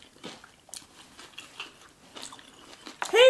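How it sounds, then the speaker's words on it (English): Crisp bites into crunchy salmon sushi at a mukbang meal, a handful of separate close crunches spread across the stretch, then a louder chewing burst at the very end. "I love some crunch with the salmon."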